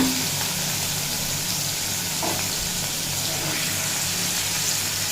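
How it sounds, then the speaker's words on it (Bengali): Paneer frying lightly in hot oil in a pan, a steady soft sizzle and hiss that runs the whole time, with a couple of faint stirring clicks. "ভেজে নেব পনির পনির কিন্তু খুব বেশি ভাজবো না"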